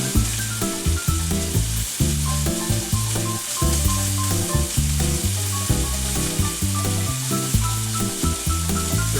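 A flat iron steak sears in a hot pan with a loud, continuous sizzle and crackle. Short pops and spits run steadily through the whole stretch, and no voices are heard.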